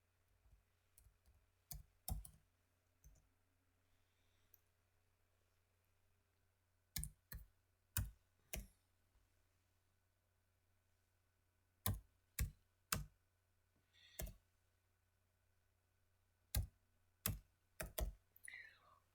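Someone taps out a fax number on a computer keyboard, quiet close key clicks arriving in short bursts separated by pauses, over a faint low electrical hum.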